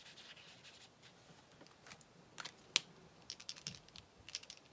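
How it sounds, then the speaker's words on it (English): Soft, scratchy strokes of a brush dabbing ink over a paper envelope while making a Christmas card, quiet and close, with a few sharper taps and scrapes toward the end. "So I'm just brushing it over my envelope too."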